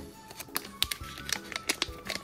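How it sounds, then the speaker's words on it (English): Scissors snip through the foil wrapper of a Pokemon trading card pack, a series of close, quiet crisp cuts and crinkles in an uneven rhythm. "let me just use scissors."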